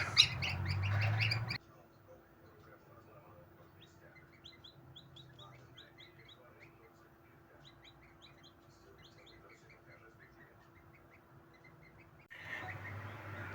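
Newly hatched, freshly dried goslings chirp in an incubator, a faint series of high, quick peeps repeating in short bursts over a steady low hum, framed by louder noise at the start and end.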